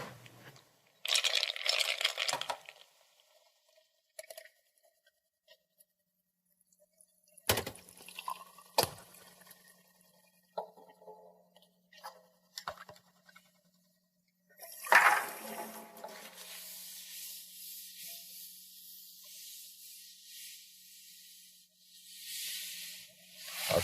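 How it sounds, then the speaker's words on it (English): Water runs from a sink tap into two glasses in turn, with short bursts of splashing flow separated by quiet gaps, drips and clinks, then a longer steady filling stream near the end. "take these 2 glasses over to the sink and fill them both almost full of water"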